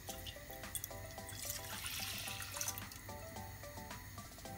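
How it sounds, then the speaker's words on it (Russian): Wine pours in a steady trickling stream into a saucepan, close by, with a soft continuous splash and no talking. "Выльем в кастрюлю по нашему вину."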